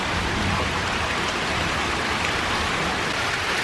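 Rain falls steadily in a close, even wash of hiss and patter with no pauses and no voices over it.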